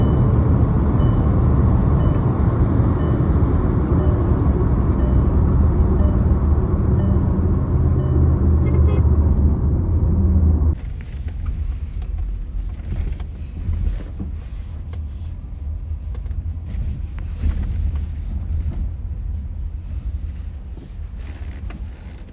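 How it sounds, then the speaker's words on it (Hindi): A Skoda Slavia car on a test drive after servicing, its engine and road noise loud and steady at first, then dropping to a quieter rumble with wind buffeting partway through; no one speaks. "टेस्ट ड्राइव व्हीकल एक बार चला कर देख लेता हूँ"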